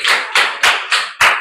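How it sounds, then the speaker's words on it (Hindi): Students in a classroom clap their hands in a short burst of five or six sharp, loud, evenly spaced claps, with no talking over them. "तालियां बजाइए इनके लिए।"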